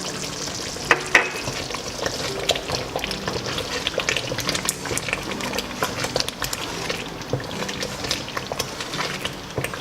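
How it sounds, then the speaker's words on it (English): A spoon stirs a stew of ground prawns and bay leaves in a pot for coconut jollof rice, giving steady scraping and sizzling with a few sharp clinks, close and continuous over a low simmering bubble. "So I'm stirring it now"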